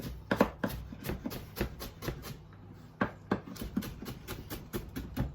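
Kitchen knife slicing vegetables into julienne matchsticks on a board, a quick run of crisp, evenly spaced chops close by, with a short pause midway before the steady cutting resumes.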